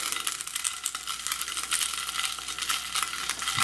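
Steady crackling sizzle of food frying in a pan on a gas stove, dense and continuous throughout at moderate volume, with no voices.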